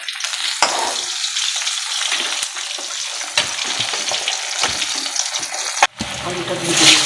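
Fish sizzling and frying in oil in a home kitchen pan, a steady hiss with occasional spatters and a brief clatter near the end, no talking.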